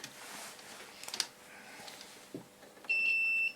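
Steady continuity beep from a multimeter probing a circa-1960s LKB DC power supply under restoration, a single sustained tone lasting under a second near the end, close and clear after quiet handling noise.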